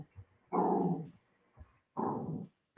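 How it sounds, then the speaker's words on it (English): A dog barks indoors at someone passing in the alley, two loud sustained barks separated by a pause with a few low huffs between, close and without talk. "She's going to bark. There's somebody walking down the alley or something."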